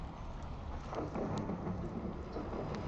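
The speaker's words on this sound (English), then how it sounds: "you can hear the storm roaring outside." A storm sound effect with thunder and steady rain, loud and continuous throughout, with low rumbling swells and rain hiss filling the scene, no talk.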